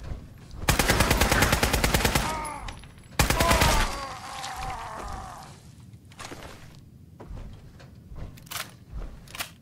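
Bursts of rapid automatic gunfire from a gun in Fallout 4: two loud sustained volleys of close shots, then scattered single reports and softer thuds as the shooting tapers off.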